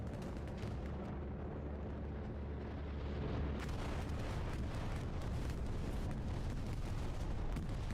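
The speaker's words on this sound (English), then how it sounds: "Yep, this is going to take out everything over here. Okay, bombing run by EXO command." Bombing-run explosions in a WWII-style battle game on the Kharkov map, a dense, loud rolling series of heavy blasts and rumbling booms that swell and continue without pause.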